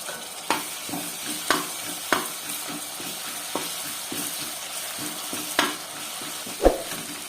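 Green chilies and ginger garlic paste fry in a pan for aloo kurma, a steady sizzle with periodic scrapes and taps of a stirring spoon against the pan, close and alone.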